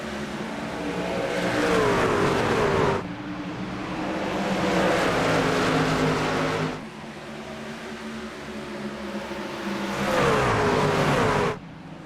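Racing truck engines roar at a green-flag restart in a NORA Truck Series race at Bristol, loud revving waves sweeping past in several surges with rising and falling pitch as the pack accelerates, no voices.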